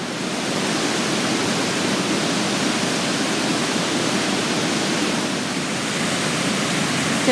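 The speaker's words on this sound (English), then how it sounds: "Not really sure if the sound's going to pick up over the noise of the waterfall" Aysgarth Falls in North Yorkshire pours in a constant broadband roar of falling water, loud and unbroken from start to end with no voices audible above it.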